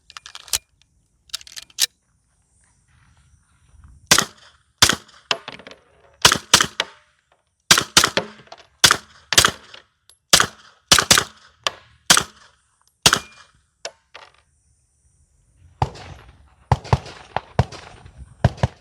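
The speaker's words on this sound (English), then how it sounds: "That's the JK CCX 9mm concealed carry special purpose suppressor." A 9mm pistol fitted with a JK CCX concealed-carry suppressor fires many sharp, close shots in quick strings and doubles. Short gaps separate the groups of shots, and there is near silence between them.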